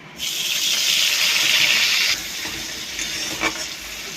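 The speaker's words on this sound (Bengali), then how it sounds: "পেঁয়াজ টমেটোটা ভালো করে ভেজে নিয়েছি।" Onion and tomato frying in oil with whole chilli and cumin in a pan, a close, steady sizzling hiss that fades after a couple of seconds into softer crackles.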